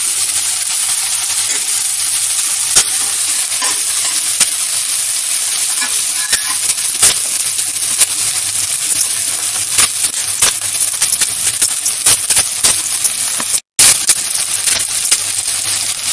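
Onions fry in a pan over low to medium heat for a dhaba-style potato and onion curry, a dense continuous sizzle broken by frequent sharp clinks and scrapes as the spoon keeps stirring.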